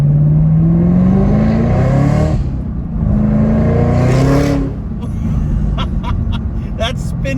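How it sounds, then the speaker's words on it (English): A car with a Corsa Extreme Plus catback exhaust roars as the engine revs up through several gears, each pull rising in pitch before a shift, loud and close. "That's spinning through the gears,"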